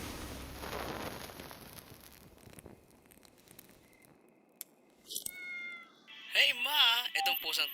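A sick cat in the horror game Hollow and Sorrows gives several loud, drawn-out wavering meows near the end, after a quieter stretch with game sounds and talk.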